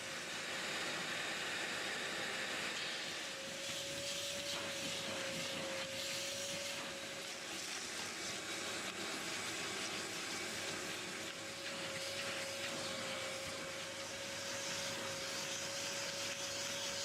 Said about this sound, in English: Vacuum marathon. Mats out. Slow, methodical passes.